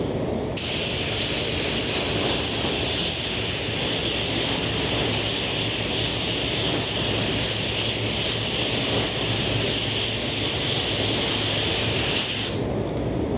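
A spray gun lays ground coat paint onto a Lamborghini Revuelto part, giving a loud, steady, even hiss that starts abruptly, runs unbroken for about twelve seconds, then cuts off sharply.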